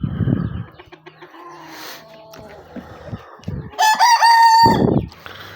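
A rooster crows loudly and nearby after some soft clucking and rustling, the call rising then falling off abruptly.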